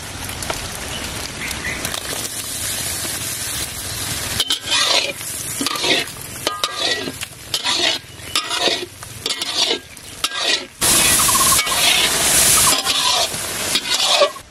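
Fried shrimp stirred into a spiced paste in a hot pan for a taro-flower dish: a steady, close sizzle with repeated scraping stir strokes, swelling to a louder, denser hiss near the end.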